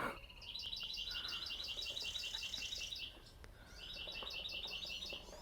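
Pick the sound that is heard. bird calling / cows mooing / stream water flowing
bird calling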